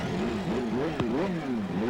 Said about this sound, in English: Here we go. The engines come to life.